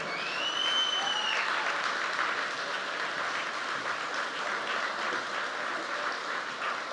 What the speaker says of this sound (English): Give Valerie and Maynard a big round of applause.